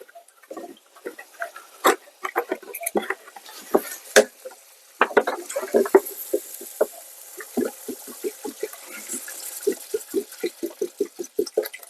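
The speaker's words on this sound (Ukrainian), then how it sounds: "Перемішуємо трошечки." A utensil scrapes and clanks through shurpa in a 7-litre cauldron outdoors, giving irregular close bursts of stirring with wet sloshing between them.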